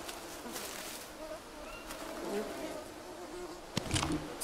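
Bees buzz in a video game, a steady droning hum that rises and falls as they move close, with faint bird-like chirps and a sharp click near the end.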